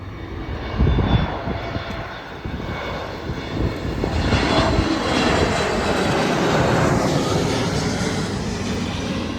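A jet airliner landing at Kannur International Airport in Kerala, its engines roaring steadily and loudly overhead throughout, a broad continuous rumble with no voices.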